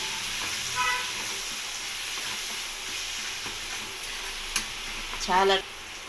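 Tomatoes and garlic fry in a pan for red chili chutney, a steady low sizzle with occasional stirring scrapes and a brief louder clatter near the end.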